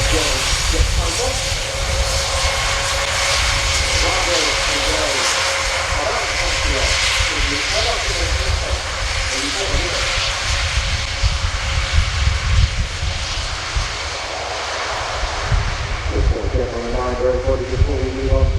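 Airbus A400M military transport aircraft during a flying display at an airshow, a loud, continuous turboprop roar that sweeps in pitch as it passes, with crowd voices and announcements underneath.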